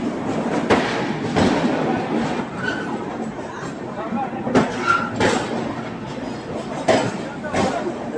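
Banaras Superfast Express 12167 pulling out of a station, a steady rolling rumble with occasional clanks and rail clicks running throughout, while people talk nearby.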